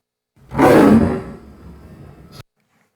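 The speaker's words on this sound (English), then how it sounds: "Let's try maybe a lion roaring in the desert." An AI-generated sound effect of a lion roaring in the desert: one loud, close roar swelling quickly, then trailing into a lower rumbling growl before cutting off abruptly.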